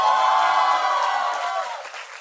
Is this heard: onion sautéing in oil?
no